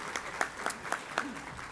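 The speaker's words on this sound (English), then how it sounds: "Give her a round of applause." A chamber of commerce breakfast audience applauds a new membership director, a short burst of clapping with a few distinct sharp claps and a faint murmur of voices underneath.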